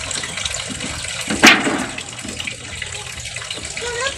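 Tap water runs steadily while dishes are washed, a continuous rushing stream with one brief louder splash partway through.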